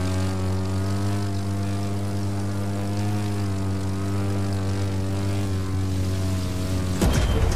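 A propeller airplane in the racing game The Crew 2 drones steadily and loudly up close, its engine tone holding level before a sudden splash-like impact near the end.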